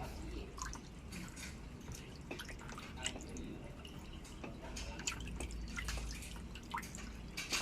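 Water drains and drips from rinsed rice, a quiet run of irregular splashes and trickles close by.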